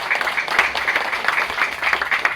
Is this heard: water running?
no